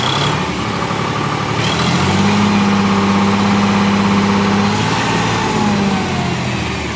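A John Deere tractor engine runs loud and close with a constant heavy rumble, its pitch lifting and holding for a few seconds as it is revved, then easing back, with no talk over it.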